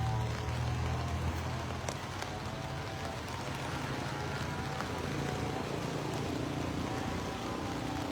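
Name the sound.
rain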